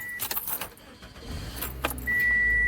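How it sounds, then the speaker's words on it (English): A car started up for a backup camera repair: keys jangle close by, the ignition clicks, then the engine catches and settles into a steady idle hum with a faint electronic tone. "So first thing we're gonna do is go ahead and start up the car."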